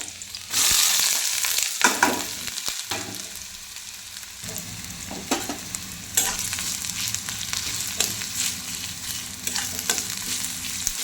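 Chopped garlic and onion fry in a kadai for spicy chicken pasta, crackling and sizzling continuously while a spatula scrapes and stirs in irregular bursts. Nearby and moderately quiet, with no talk.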